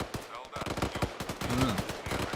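Rapid AK-74 rifle shots crack out in the Arma 3 video game, a dense run of sharp reports near and loud, with someone talking over much of the firing.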